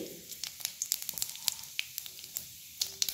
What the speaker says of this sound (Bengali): তেলটা ভালো করে গরম হয়ে গেছে, আমি দিয়ে দিচ্ছি এখানে গোটা জিরে